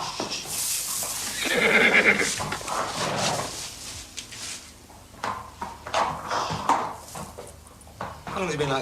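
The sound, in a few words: horse neighing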